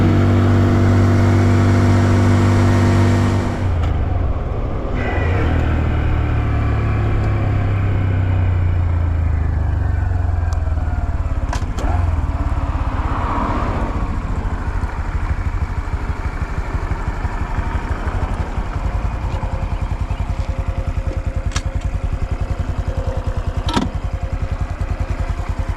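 A 2025 Honda Dax 125 mini motorcycle ridden at full throttle, its small engine droning loudly and steadily for the whole stretch, with wind rush and some shifting pitch as the bike climbs and descends.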